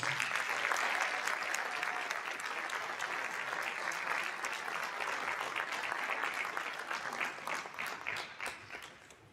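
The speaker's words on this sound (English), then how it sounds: "let's give our CEO, Dr. Cade, a hearty round of applause." Audience at a school district's State of Our Schools evening gives a sustained round of applause as the district CEO comes to the microphone, many hands clapping steadily before fading into a few scattered claps.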